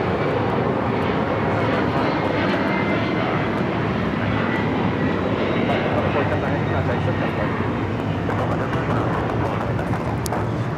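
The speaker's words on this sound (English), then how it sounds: "2479 taking off to Lima on the 767-300ER" A Latam Airlines Boeing 767-300ER takes off from LAX for Lima, a loud continuous jet engine roar at a fair distance, broad and rumbling with wind noise throughout.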